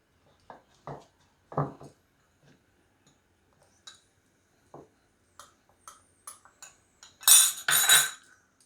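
Chili and garlic being mixed in a bowl, a run of short separate clinks and taps of a utensil against the dish, ending in two louder, fuller scraping clatters, close and without talk.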